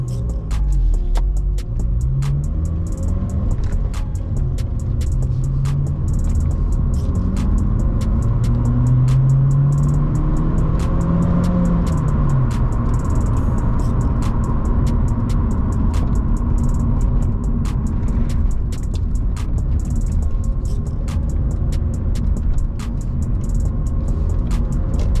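A car driving after a gear shift, its mid-pitched engine hum rising and falling as it accelerates, steady throbbing rumble continuing for the whole stretch with no talking.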